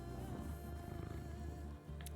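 A pet cat purring close up, a soft, rapid rumbling flutter that continues steadily with a brief pause near the end.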